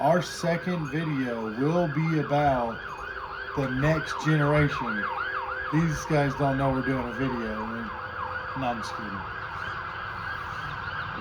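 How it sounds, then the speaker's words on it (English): A fire truck siren wails in repeated rising and falling sweeps as it passes, fairly loud and steady, with people talking over it. "It's a fire truck."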